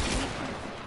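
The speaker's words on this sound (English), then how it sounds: "Ooh, hunter rifle." Hunter rifle gunshot in a shooter video game, a single short burst of loud, harsh broadband noise that decays quickly, with no voices.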